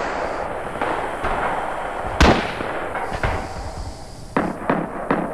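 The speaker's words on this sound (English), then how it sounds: "I shot a mortar out and it was just, you know." Japanese knee mortar fired in the video game Rising Storm 2, a sharp loud launch burst near the middle followed by several smaller distant pops and blasts over a constant background of battlefield noise.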